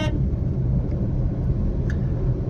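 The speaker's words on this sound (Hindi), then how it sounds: "ये धीरे धीरे गाड़ी की आवाज़ समझ आ रही होगी" Car rolling along an unfamiliar road, a steady low rumble of engine and tyre noise from inside the cabin with faint bumps, continuous and without talking.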